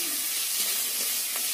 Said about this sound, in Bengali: দিয়ে ভালো করে ভেজে ওর মধ্যে দিয়ে দেবো টমেটো কুচি